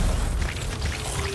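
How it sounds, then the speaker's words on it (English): A melee attack explosion in the video game Anthem: a dense, sustained low rumbling boom with a hissing wash on top, loud and steady throughout the short stretch. "It's pretty cool for my melee attack is basically an explosion."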